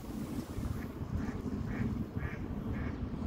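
Ducks quacking in the background by a waterside with a train nearby, a series of repeated quacks spaced about half a second apart over steady wind noise and low rumble, moderately distant.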